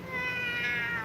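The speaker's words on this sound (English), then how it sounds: "has like the squeakiest meow ever." A cat gives one close, squeaky and whiny meow, a drawn-out high-pitched call heard alone, with no voices.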